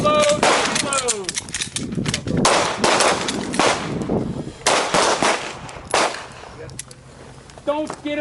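Handgun shots ring out on a live-fire range during a combatives class, a string of loud, sharp cracks spaced unevenly with pauses between. Shouted commands and talk are heard between the shots.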